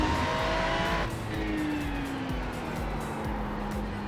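A race car in a racing video game accelerates through a final corner, its engine droning steadily with a sustained tire squeal gliding downward in pitch, loud and continuous with a brief shift partway through.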